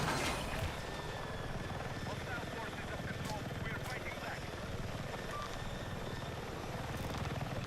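Helicopter in the video game Battlefield 6, a loud continuous rotor and engine drone that holds steady throughout, with a voice talking over it.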